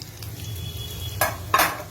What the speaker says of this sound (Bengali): ভালো করে গাজরটাকে এখন ভেজে নিচ্ছি